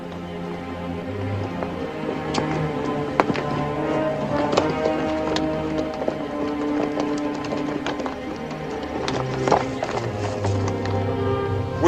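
Horse hooves clip-clop in a steady rhythm in a 1958 Western film, the taps ringing out over a low background, with a voice briefly heard.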